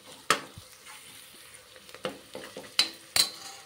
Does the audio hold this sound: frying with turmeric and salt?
yes